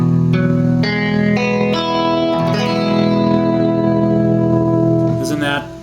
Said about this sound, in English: I like to play an E 9th chord, which sounds like this.